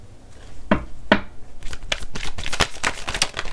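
A deck of tarot cards being shuffled, with two sharp riffles near the start and then a quick run of crisp flicks and slaps that sounds close to the listener.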